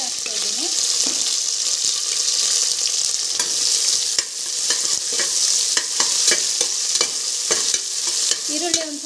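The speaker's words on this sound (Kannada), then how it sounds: "ಈರುಳ್ಳಿ ಒಂದು ಸ್ವಲ್ಪ ಗೋಲ್ಡನ್ ಕಲರ್ ಫ್ರೈ ಆಗುವವರೆಗೂ, ಒಂದು ಸ್ವಲ್ಪ ಹಸಿ ಆಗುವವರೆಗೂ ಫ್ರೈ ಮಾಡ್ತೀವಿ" Onions frying in a pan for tomato bath, a steady loud sizzle with spoon scrapes and stirring clatter throughout, no voice.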